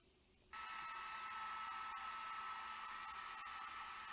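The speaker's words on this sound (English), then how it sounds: "So now I'm gonna use the heat gun." A heat gun switches on abruptly and blows steadily on car stereo wire connectors, a loud, close, continuous whooshing roar after a quiet start.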